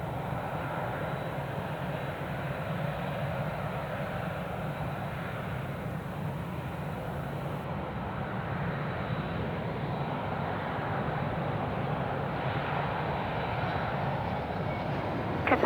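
A Qatar Airways Airbus A380-861 arriving at Perth produces a continuous, loud jet-engine roar that holds steady throughout with no talking.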